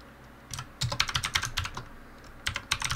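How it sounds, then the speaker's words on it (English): Computer keyboard typing in quick bursts of close, crisp keystrokes, with a short pause in the middle before another brief flurry of key presses. "let's type it out,"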